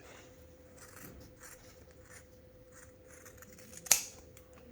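Scissors snip through fabric while trimming a lined zipper bag, with one crisp, close cut standing out near the end after quiet handling.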